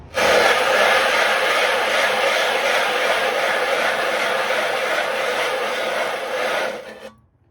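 A sharpening stone rubbed steadily on a Dalstrong flattening plate, making a loud, continuous gritty rasp that keeps going for several seconds and then stops abruptly. Nobody speaks.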